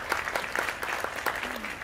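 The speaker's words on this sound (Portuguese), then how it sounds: "Aplaudo a Camila" A studio audience claps briefly for Camila during a podcast, a short burst of close, dense applause without talk.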